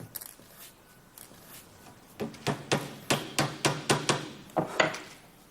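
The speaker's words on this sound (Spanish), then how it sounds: "Lo vamos a fijar inicialmente con unos clavitos para que no se nos" Small nails hammered into a laminated furniture back panel, a run of about eight sharp, fairly close taps in an uneven rhythm after quieter handling noise at the start.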